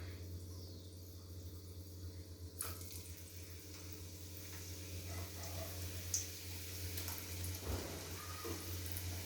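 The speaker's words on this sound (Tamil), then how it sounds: "ஃப்ரெண்ட்ஸ் இப்போ நம்ம மறுபடியும் பொரிக்க ஆரம்பிக்கலாம்" A continuous soft sizzle and crackle of hot oil frying potato French fries, with a low steady hum underneath and occasional bubbling pops.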